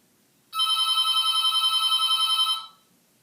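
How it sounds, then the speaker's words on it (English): A telephone rings once, giving a single steady electronic trill that lasts about two seconds, loud and close, in an otherwise quiet room. "Phone ringing."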